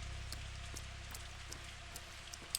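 Rain falling in Pathologic 2, a faint, even patter with scattered small drips and taps over a low rumble.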